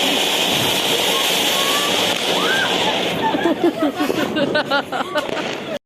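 An anar fountain firework burns at a Govardhan Puja celebration, giving a steady loud hissing spray throughout with crackling bursts and whistling toward the end, and voices chatter over it.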